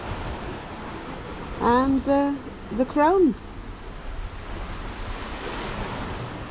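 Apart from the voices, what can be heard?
ocean water noise aboard a sailboat at sea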